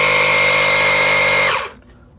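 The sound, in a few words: Milwaukee portable air compressor running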